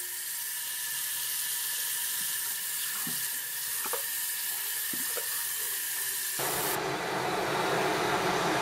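Tap water runs steadily into a sink to soak birch bark, a continuous close hiss and splash that grows brighter and fuller near the end as the flow changes.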